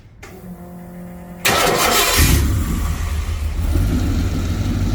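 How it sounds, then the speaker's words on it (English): A Ford Anglia street rod engine cranks briefly, then catches and fires up loudly, settling into a steady, rumbling idle close by with no voices. "Lou, start it up. Okay, here it goes."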